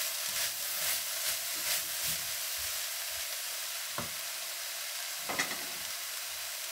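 Onions sautéing with ginger and garlic for chicken fried rice, a constant bright sizzling hiss with repeated soft scrapes and taps of a spatula stirring the pan, close and steady throughout.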